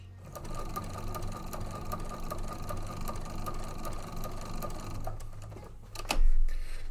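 A sewing machine fitted with a walking foot stitches a table runner in a steady, rapid mechanical run at close range, with no talking, then a louder clunk near the end.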